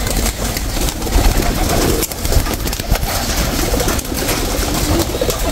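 Escaped breeder racing pigeons, rare colour, outdoors amid a dense, noisy background, with faint cooing and bursts of fluttering wings at close range, and no voices.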